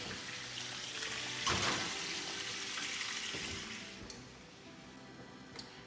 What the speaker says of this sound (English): So water is boiling.